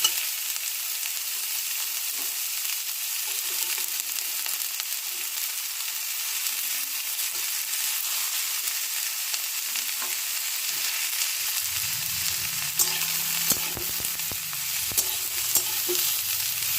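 Onion, green chili and capsicum frying in a pan for semolina upma, an even hissing sizzle with faint occasional stirring and a low hum joining near the end, no talk.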